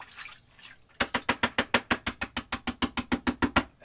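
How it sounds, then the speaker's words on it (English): An oil paint brush rinsed in water sloshes in a quick, even rhythm of about twenty close, wet splashes after a short, quiet swirl. "And let's just rinse that off too"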